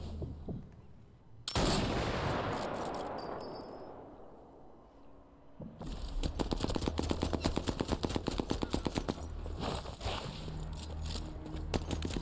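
Gunfire in the video game Sniper Elite 4, at a German dockside in northern Italy: a heavy burst and rumbling blast, then a long rapid rattle of automatic fire, loud and continuous with no talk.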